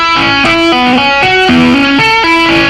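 Overdriven electric guitar tapping a pentatonic lick, a quick repeating cascade of bright, sustained notes, loud and up front with no talking.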